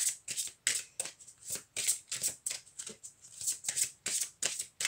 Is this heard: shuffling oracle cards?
yes